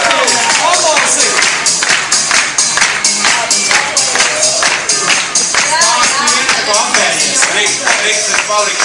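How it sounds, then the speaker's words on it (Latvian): An audience applauds the actors at a Latvian theatrical performance, with distinct claps landing in a loose rhythm while people talk over and between them throughout the nearly nine-second stretch. "Visiem aktieriem aplausi!"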